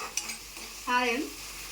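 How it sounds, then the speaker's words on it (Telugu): Coriander seeds and cumin roast in a kadai, a brief soft scrape of stirring with a light sizzle, and a short voice sound in the middle. "ఆ కడాయిలో ధనియాలు ఇంత కొంచెం జీలకర్ర వేసి వేసుకుంటే అయిపోతుంది"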